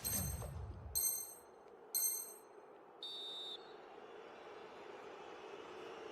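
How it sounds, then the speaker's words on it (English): A referee's whistle blows for half-time in an eFootball esports match: three short, shrill blasts about a second apart, the last one steadier, over a low, constant crowd-like ambience. "And the whistle is sounded for half."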